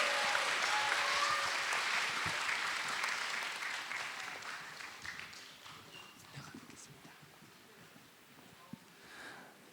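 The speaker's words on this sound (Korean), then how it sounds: "큰 박수로 퇴장할 때 보내주시면 감사하겠습니다" A live event audience claps and applauds loudly as performers leave the stage, the ovation gradually fading over several seconds to scattered claps.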